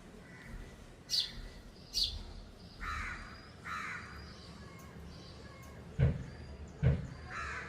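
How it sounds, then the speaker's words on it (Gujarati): Crows caw in loud separate bursts, answered by brief higher sparrow calls in between, outdoors with no voices. "કાગડો અને ચકલી સામ સામે વાત કરે છે"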